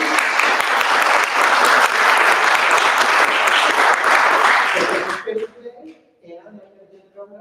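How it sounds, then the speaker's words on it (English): Applause at a League of Women Voters candidate forum for the Peoria County Board, a loud dense burst of clapping for about five seconds that cuts off abruptly, followed by faint voices. "I want to offer the opportunity for a round of applause at the end for everyone."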